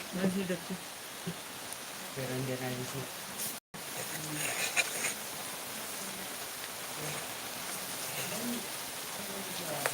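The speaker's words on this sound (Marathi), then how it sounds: "पाऊस आला रे" Steady rain falls throughout with a constant broadband hiss, while a few voices talk over it near the start.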